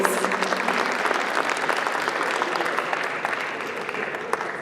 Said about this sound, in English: yes, you can give them a round of applause.